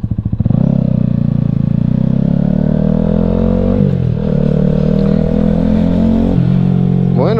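A Keeway V Cruise 125 motorcycle ridden on a motorway starts with a quick throttle blip, then holds a loud, close, steady engine drone with a few gear-change dips and wind rumble.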